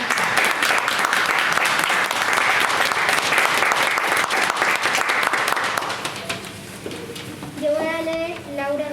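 A crowd applauds at a library reading-day event. Full, steady clapping runs for about six seconds and then fades, and voices, including a child's, talk over the tail.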